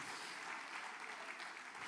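A church congregation applauds during a sermon, dense continuous clapping that fills the short stretch at an even level without any break.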